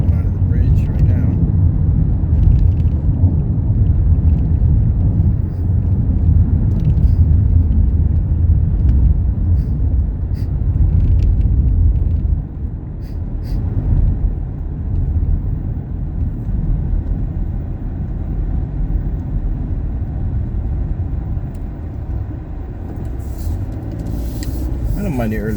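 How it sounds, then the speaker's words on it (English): Steady roar of freeway traffic heard from inside a moving vehicle early in the morning, cars zooming past with a continuous loud low rumble and occasional swells, with a person talking over it. "there's still those that still drive like idiots, as be seen by some of the cars zooming by"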